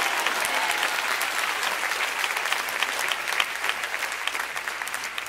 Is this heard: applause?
yes